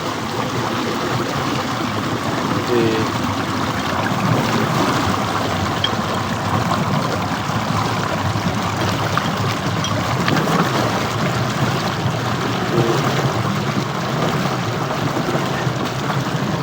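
Irrigation water pours steadily through an opened channel into a maize field, a continuous, even rushing and gurgling flow heard close by with no break for the whole stretch.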